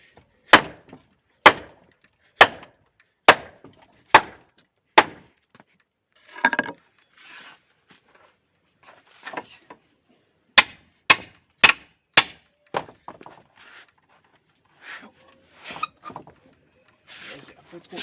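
A hammer drives a chisel into wood in sharp, evenly spaced strikes, a rapid run of blows followed by softer scraping and knocking, then another quick burst of hits, all close and loud.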